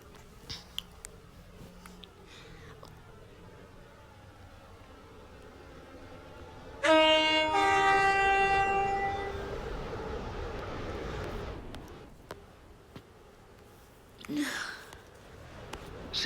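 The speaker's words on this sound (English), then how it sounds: "Oh, there's a metro train coming." A metro train in a video game rolls in with a sudden rising whine of motor tones that glide upward, then rumbles steadily before fading, with brief voices around it.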